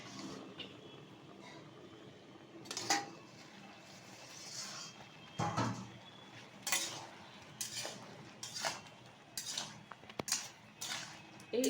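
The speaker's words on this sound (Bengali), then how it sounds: "ঢাকনাটা খুলে দিচ্ছি" A lid is taken off a cooking pot of apple and date pickle, giving a series of light metallic clanks and scrapes against the pot, spaced irregularly over a quiet kitchen background.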